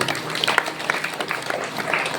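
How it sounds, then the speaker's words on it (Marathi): An audience at a village devotional discourse during a Harinam Saptah breaks into a short round of clapping, a brisk patter of many hands at moderate loudness that lasts about two seconds. "टाळ्या वाजवा."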